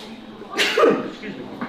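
A single sharp sneeze bursts out near the middle, close and fairly loud, over quiet background murmur.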